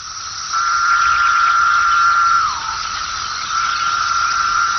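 A loud, steady periodical cicada chorus drones continuously, a shrill buzzing whine that dips briefly, then resumes at full strength.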